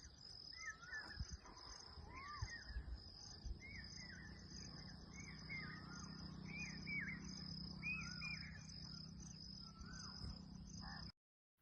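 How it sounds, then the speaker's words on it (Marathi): A hawk-cuckoo calling out in farm fields, a series of repeated short rising whistled phrases at mid distance, fairly faint over a continuous high insect drone. "पावशा आहे, ह्या पक्ष्याचं नाव आहे."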